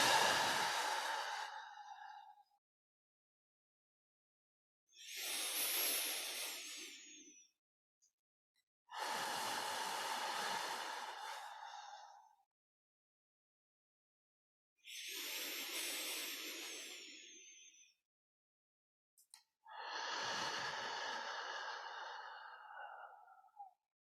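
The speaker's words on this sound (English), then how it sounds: "begin your 12-fold lower belly breathing" Slow, deep lower-belly breaths during a guided grounding exercise, five long drawn-out exhalations, each lasting two to three seconds and separated by short silences, close and fairly quiet, with no talking.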